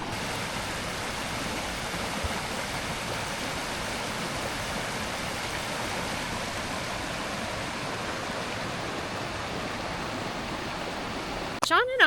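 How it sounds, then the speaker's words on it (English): Wallowa River in Oregon's Wallowa Mountains rushing steadily, a loud, even broadband roar of flowing water that holds constant throughout, with a brief sound near the end. "This is the Wallowa River."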